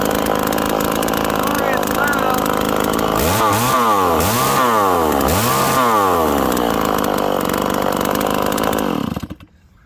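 A Stihl 026 chainsaw running with its muffler cover removed, loud and close, holding a raspy high idle, then revving up and down in three swells before the engine cuts out and falls silent.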